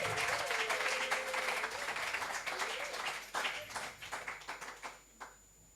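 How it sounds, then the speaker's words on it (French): A church congregation breaks into sustained applause and clapping in praise of the Lord, a dense wash of hands at the start that gradually thins into scattered claps before fading out. "Si tu es d'accord avec moi, tu peux acclamer le Seigneur"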